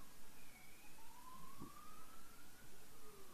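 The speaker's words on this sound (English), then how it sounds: "I could hear the police sirens, and now I can hear them near me." Police sirens wail faintly from far off, a thin wavering tone rising and falling beneath a steady wash of background noise, with a brief thud partway through.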